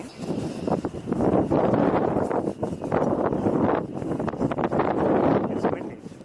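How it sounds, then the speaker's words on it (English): Strong outdoor wind roars in rising and falling gusts against the microphone, loud and close, surging in several waves with brief lulls between them. "It's windy, no question."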